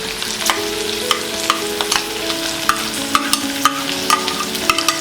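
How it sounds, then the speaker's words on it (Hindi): Onions frying together with okra (bhindi) in a pan, a steady close sizzle with repeated sharp scrapes and taps of a spoon stirring through, no talk. "हम अनियन को अलग से फ्राई नहीं करेंगे, भिंडी के साथ में फ्राई करेंगे"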